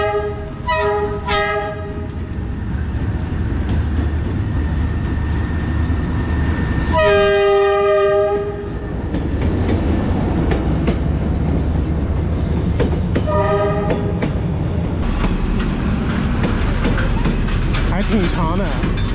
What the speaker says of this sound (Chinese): 火车要过来了